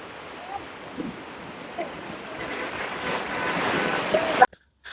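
A river in flood, with loud, steady rushing water and broadband roar building over several seconds, mixed with wind buffeting the microphone, before cutting off abruptly near the end.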